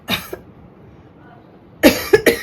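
A person with a sore throat coughs close by, giving one short hack and then, after a pause, three harsh coughs in quick succession.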